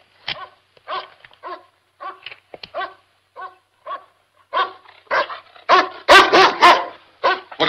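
A dog barks in a string of short, close yaps mixed with whimpers, starting spaced and soft, then growing louder and more insistent toward the end.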